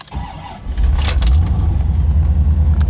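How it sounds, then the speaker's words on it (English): A 1988 Chevrolet Corvette C4 with a 350 engine cranks and starts, settling at once into a loud, close, steady low rumble, with a brief metallic jingle just before it catches. "Now, the car starts right up."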